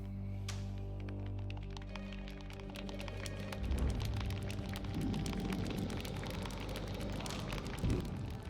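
Heavy rain falls in the video game Burly Men at Sea, a dense, continuous patter that builds into a loud steady wash over a low rumbling drone.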